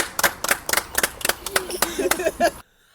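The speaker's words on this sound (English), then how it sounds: "They're freaking clapping for her." Onlookers on a Paris street clap for a driver after a tight parking job, a string of distinct, sharp handclaps from a small group, with a few voices and laughter, ending abruptly.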